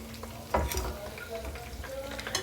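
A roast sautés with spices in hot oil, giving a close, steady sizzle with stirring scrapes and a louder clatter near the start and again at the end.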